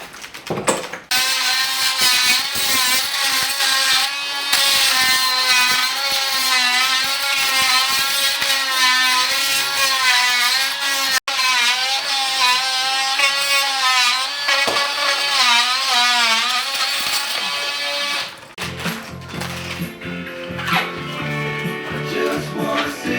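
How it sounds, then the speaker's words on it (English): An oscillating multi-tool buzzes continuously and loudly as it cuts along a plaster wall, its pitch wavering with pressure, before giving way to a duller, rougher scraping near the end. "what you saw me doing there with the multi-tool is just lining this up"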